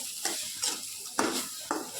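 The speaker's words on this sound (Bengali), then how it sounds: "কাবাবটা ভাজা হয় দেখছেন লেগে যাচ্ছে কড়ায়" Kebab mixture fries in a wok, a soft continuous sizzle broken by four evenly spaced scraping stirs at close range, with no voices.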